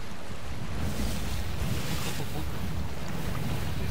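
Ocean waves wash against a sailing ship in the pirate video game Sea of Thieves, a steady, full rush of water and wind noise that holds for the whole stretch with no talk.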